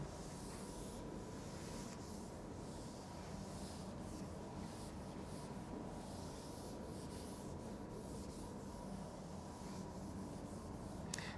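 A board being rubbed clean of written working during a lecture, a faint, steady scrubbing and rubbing that continues evenly for several seconds with no talk over it.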